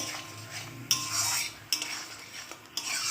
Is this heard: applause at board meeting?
no